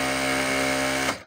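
A Singer 9900 high-speed sewing machine runs at full speed, a loud steady motorized whine with dense mechanical hum that cuts off abruptly at the end.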